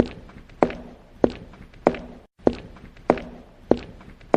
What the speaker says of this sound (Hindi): लेकिन 3 बोलने से पहले ही उन्हें कदमों की आहट सुनाई दी